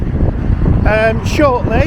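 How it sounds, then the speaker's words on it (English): Strong coastal wind in North Wales buffets the microphone with a heavy, low rumble throughout, while a voice speaks briefly over the noise. "It is so windy here, it's unreal."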